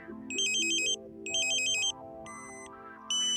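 Bursts of bright, warbling electronic beeping from a satellite meter while aligning a KA-SAT dish repeat in short pulses, alternating with a steady tone, loud and close with no talking.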